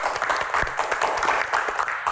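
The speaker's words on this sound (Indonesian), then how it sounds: "Tepuk tangan, luar biasa." A studio audience on an Indonesian Q&A talk show breaks into lively applause, with close, distinct claps forming a busy, uneven rhythm over a short burst.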